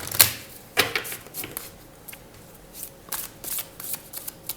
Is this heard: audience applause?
no